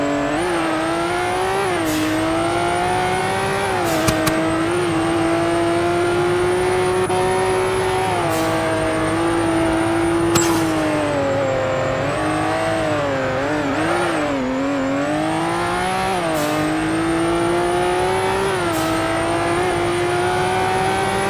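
Formula 1 race cars scream around a 1970s-style street circuit in the Roblox game Car Crushers 2, engines rising and falling through gear shifts and corners, with brief tire squeals and cars passing, loud and continuous for about twenty seconds.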